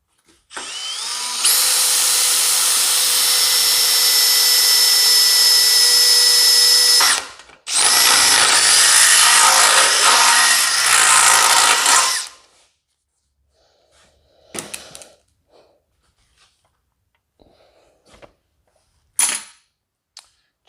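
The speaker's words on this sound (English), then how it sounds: "I'm going to drill 2 different holes and then take a hand file" A power drill bores holes through a rusted steel transmission cross-member on a 2004 Chevy Suburban 4WD, with two long, loud, close bursts of whining drilling followed by a few short clanks and knocks.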